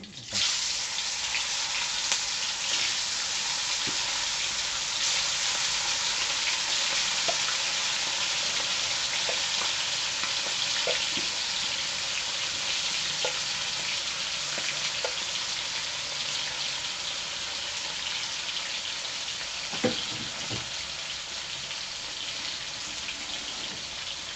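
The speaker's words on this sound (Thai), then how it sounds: "ตั้งกระทะใส่น้ำมันให้ร้อนนะครับแล้วก็ใส่" Steady, loud sizzling of pork bones frying in hot oil in a pan, continuous throughout with occasional small pops and crackles.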